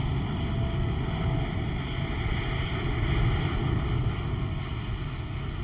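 A United Airlines Express Embraer jet in Microsoft Flight Simulator gives off a steady, moderately loud engine drone with sustained whining tones, unbroken across the whole stretch.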